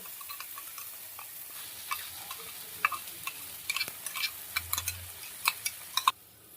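Curd and cashew paste stirred into frying ginger-garlic masala for doi katla fish curry, with a faint sizzle under repeated soft spoon taps and scrapes against the pan, ending in a sudden cutoff.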